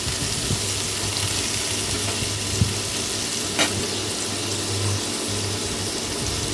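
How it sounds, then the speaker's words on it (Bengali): Small diced potato pieces frying in oil with a pinch of salt and turmeric, a steady soft sizzle running throughout with a couple of faint clinks and a low hum beneath. "এখন আমি এই একই তেলের মধ্যে একটা বড় সাইজের আলুকে ভেজে নেব"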